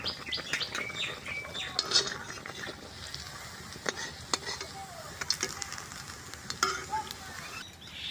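Malpua, a banana pitha, frying in hot oil, a soft bubbling sizzle with sharp crackles, while birds chirp in the background.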